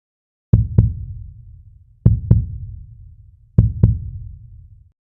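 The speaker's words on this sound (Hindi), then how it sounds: "अपने दिल की धड़कनों को सुनो," A heartbeat sound effect in a romantic drama: three evenly spaced lub-dub double thumps, deep and resonant, each trailing into a low decay, alone with no voices.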